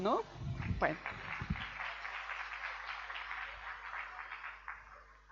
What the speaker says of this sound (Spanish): Creo que se merece un aplauso